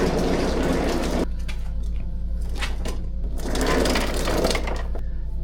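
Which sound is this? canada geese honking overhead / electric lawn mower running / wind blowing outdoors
electric lawn mower running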